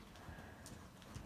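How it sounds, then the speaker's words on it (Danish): A horse trotting with a natural gait during a warm-up riding session, faint rhythmic hoof beats under a steady background hiss. "som han traver her, så traver han sådan med en naturlig gang"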